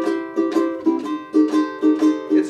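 Ukulele bar chords strummed in an even, steady up-and-down pattern with no swing, each stroke ringing bright and close, about ten strokes in quick regular succession with no talking.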